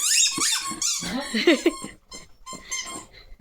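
Rapid high-pitched squeaks from a rubber chicken toy being chewed by a dog, coming in bursts close up, with occasional soft whines between.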